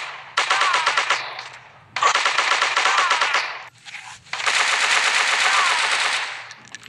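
Sustained automatic gunfire from a shooting video game, loud and close, in three long continuous bursts separated by brief pauses.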